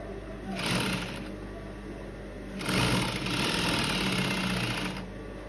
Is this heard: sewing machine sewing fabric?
yes